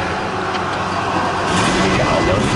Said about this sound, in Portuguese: Se ligou ele rapidinho, só para escutar o motor dele.